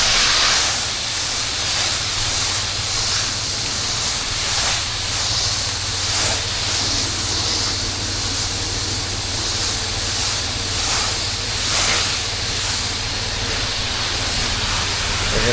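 A soft wash sprayer in Orlando coats a gate with cleaning solution, producing a loud, continuous spraying hiss with a low pump hum beneath it for the whole stretch.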